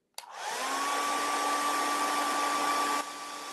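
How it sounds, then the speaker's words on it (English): A hair dryer switches on with a click and blows steadily to dry paint on an Easter garden stake, a loud close whirring drone with a tonal whine that drops slightly near the end. "we're going to blow dry that just a little bit more."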